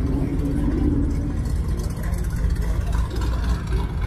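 A Corvette engine running with a deep, steady rumble, loud and close, idling continuously without talk.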